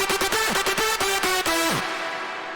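A synth lead soaked in reverb plays a quick run of bright, pulsing notes, then its tail rings out and decays for a moment.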